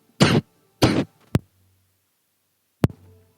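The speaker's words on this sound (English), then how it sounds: "I couldn't cut my mic off quick enough to start coughing" Coughing straight into a live-stream microphone: two loud, close coughs in quick succession, then two short sharp throat bursts spaced about a second and a half apart, with quiet gaps between.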